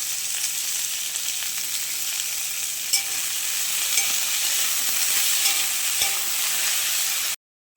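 Potatoes and a green vegetable frying with turmeric and salt produce a steady, even sizzle close by, with occasional faint stirring ticks and a short silent gap just before the end.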